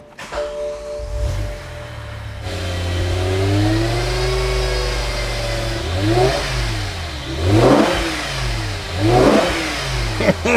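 A BMW M5 S85 V10 engine starts and settles into a rumbling idle, then revs up in several rising, roaring bursts, loud and close, while warming up before an oil drain.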